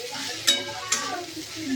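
Food being stir-fried in a pan while it is seasoned with salt, a soft steady sizzle broken by two sharp scrapes of the spatula.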